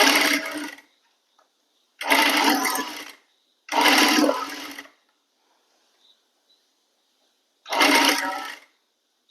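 An electric sewing machine stitching a coat-coloured A-line kurti runs in four loud, steady bursts of about a second each, with short silent pauses between them and no talking.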